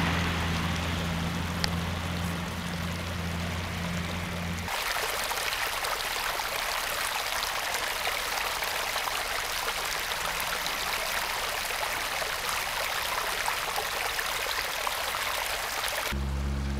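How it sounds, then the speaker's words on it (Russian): Broadband rushing of sewage and tap water from Luhansk running together down a flooded city street, a steady close flow like a stream, with a low hum in the first seconds before the water takes over. "Воды канализации с водопроводной бегут вместе в речку."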